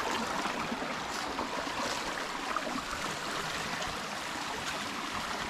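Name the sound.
stream water flowing in a dense forest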